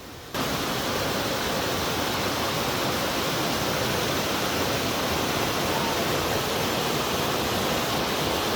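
Steep Creek rushing beside the East Glacier Trail in Juneau, Alaska, a loud, constant broadband roar of fast-flowing mountain water, close by, with no voices.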